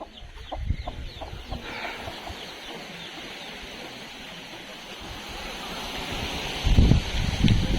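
Hens and chicks cluck and peep repeatedly as grain is scattered for them, a busy flock of close, overlapping calls with louder flapping or scuffling near the end.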